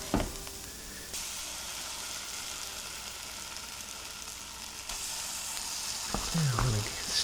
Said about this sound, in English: keep stirring this and heating it until it's the amount of dry you want